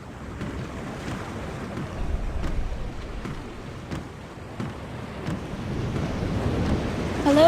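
Ship sailing at sea in The Longest Journey video game, with a steady wash of waves and wind, low rumbling surges rising and falling throughout, moderately loud and without speech.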